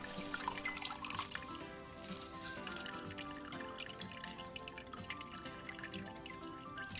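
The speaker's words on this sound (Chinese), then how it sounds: "再用清水洗一次，沥干水分。" Salted bitter melon is rinsed under running tap water and drained, giving a continuous soft splashing trickle with scattered drips, steady and fairly quiet throughout, with no voices.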